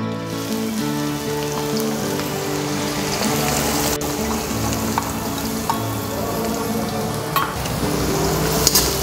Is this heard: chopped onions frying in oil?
yes